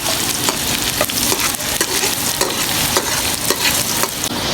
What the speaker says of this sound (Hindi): इसमें डालेंगे प्याज। प्याज को आपने ज़्यादा ब्राउन नहीं करना।